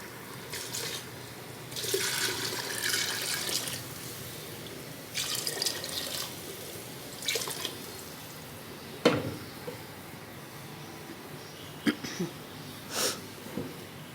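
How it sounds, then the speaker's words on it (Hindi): Water is poured into a cooking pot of chana dal with spinach. Intermittent splashing bursts of running water come and go over about fourteen seconds, fairly quiet and close, with no speech. "दाल ऐड करके इसके अंदर इतना पानी डालेंगे जितने में ये गल जाए"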